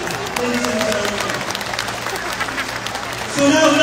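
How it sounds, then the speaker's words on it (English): An audience at an orchestra's final concert breaks into steady applause, a dense wash of clapping that swells louder toward the end, with a presenter's voice heard over it. "Let's give a round of applause for that vision, ladies and gentlemen."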